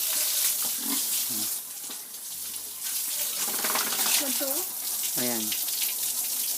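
Pigs being hosed down with water after eating: a constant splashing spray runs throughout while pigs grunt and squeal now and then, and a person speaks briefly.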